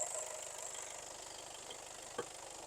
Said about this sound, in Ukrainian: Тут двигун працює гарно.